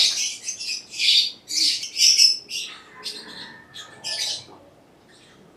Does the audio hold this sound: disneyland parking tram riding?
no